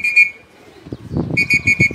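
A whistle is blown in sharp, shrill blasts, one at the start and a rapid series of short toots at the end, with a burst of clattering noise in between.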